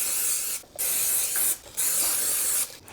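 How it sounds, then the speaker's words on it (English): Cooking spray hisses across the plates and egg rings of a Hamilton Beach dual breakfast maker in three long, close bursts separated by brief pauses, with a short final spurt. "let's open up the top and spray down each of our surfaces"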